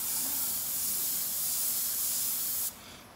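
An aerosol can sprays black paint over a stencil in one close, steady hiss lasting a couple of seconds before cutting off sharply, with quiet room tone afterward.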